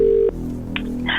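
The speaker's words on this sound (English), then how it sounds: "we're going to make a phone call right now" A dial tone on a phone line cuts off, then short keypad tones beep as a number is dialed for a radio call-in to a contestant; the tones are clear and close, with no talking.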